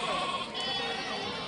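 A goat bleats at a crowded livestock market in Chakan, Pune, one wavering bleat with a quavering tone, fairly close against low market murmur.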